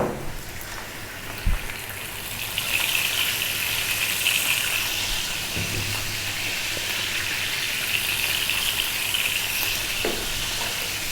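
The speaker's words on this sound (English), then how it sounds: "we're going to fry it around on medium heat for about 5 or 6 minutes" Chicken seasoned with salt and pepper frying in a pan over medium heat, a steady soft sizzle that holds evenly throughout, with an occasional light knock of the pan or utensil and no talking.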